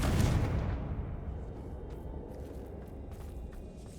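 A fire spell explosion in the video game Hogwarts Legacy: a loud broad blast that decays into rumbling debris and faint crackles, without speech.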